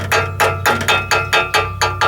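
Hammer blows tapping sheet metal round on a car exhaust pipe during a catalytic converter replacement, about eight sharp metallic strikes in a steady rhythm, close and loud with no talk.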